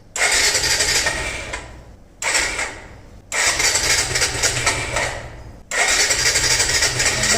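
A motorcycle engine is cranked repeatedly as it struggles to start, with four loud, close bursts of starter and engine noise, each fading or cutting off before the next attempt.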